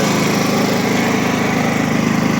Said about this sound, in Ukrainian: Працює генератор, так як немає світла.